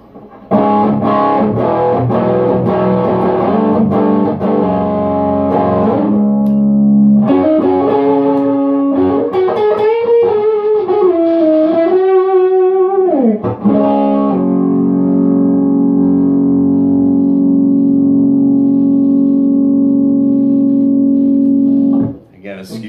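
Electric guitar played through a Victory V40 amp with a Tube Screamer pedal, loud distorted chords and sustained bends ringing out for most of the passage before an abrupt stop.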